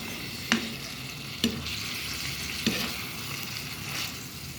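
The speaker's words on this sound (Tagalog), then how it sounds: "Ginisa ko ng chicken meat" Chicken meat sautés in a pan with a steady close sizzle, broken by three sharp scrapes of a spatula stirring, no one talking.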